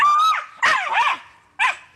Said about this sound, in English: She's now able to sniff out and identify native New Zealand frogs with a classic toller squeal.